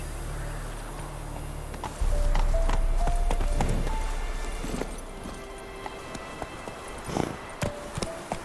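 Horse hooves galloping in The Witcher 3, a loud rumbling gallop that starts abruptly and fades into scattered clip-clop hoof strikes and sharp knocks.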